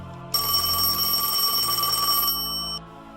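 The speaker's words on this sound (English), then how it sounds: "The silence was broken by the telephone ringing." A telephone rings in one loud, continuous electronic trill lasting about two seconds before cutting off, with no voices.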